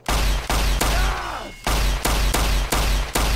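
Plasma Defender energy pistol from a Fallout weapons set in Garry's Mod fires a series of loud, close shots in a regular rhythm, about seven blasts with one longer swooping discharge partway through.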